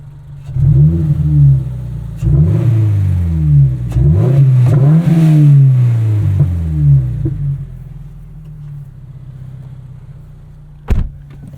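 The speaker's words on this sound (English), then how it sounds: "Give it some revs at idle here." A 2022 Subaru BRZ with an MRT street/race axle-back exhaust revs from idle in several loud, rising blips, each falling back to a rumbling idle before the engine settles and goes quiet.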